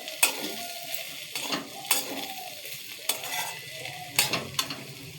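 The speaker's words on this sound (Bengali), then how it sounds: "নেড়ে দেব।" Fried potatoes with spring onion greens get stirred in a pan: repeated scraping strokes of a spatula against the metal, spaced about every second, over a light steady sizzle, close and fairly quiet.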